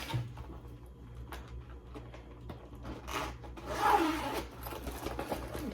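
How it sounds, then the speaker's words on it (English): Zipper on a reusable gusseted bag being opened, faint scratchy rubbing and a brief raspy pull up close in a quiet room. "It's got a zipper."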